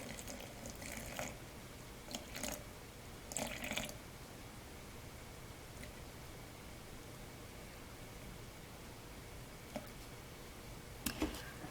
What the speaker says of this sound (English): So now I will put in 100 grams of water.